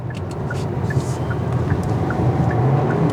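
A 2026 Kia K4 Hatchback under full throttle, its engine and road roar building steadily inside the cabin while a soft, regular ticking chime repeats about twice a second.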